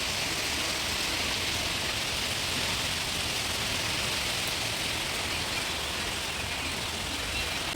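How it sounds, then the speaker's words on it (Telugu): Heavy rain driven by strong wind makes a dense, even hiss that stays constant and close throughout, with no voices. "సో ఇవాళ అయితే పెద్ద గాలివాన అయితే స్టార్ట్ అయిపోయింది"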